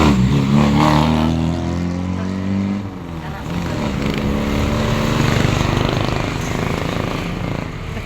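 A car engine rumbles and revs up, its pitch rising and falling steadily for several seconds, with voices talking over the noise.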